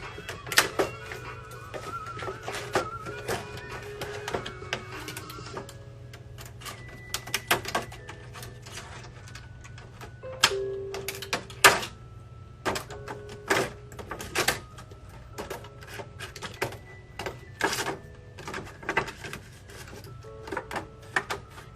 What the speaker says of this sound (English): You have to have some good scissors to cut through this stuff.